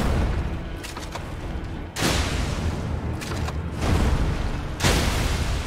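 Shotgun blasts in the action RPG Elden Ring, several loud, sharp, booming shots at irregular intervals, each trailing off with a rumbling decay.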